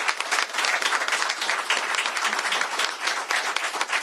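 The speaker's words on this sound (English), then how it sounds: "give him a big round of applause for his leadership" Crowd applause for State Representative Tom Dent at a governor's bill signing, a steady dense burst of clapping that carries evenly through the whole stretch without a break.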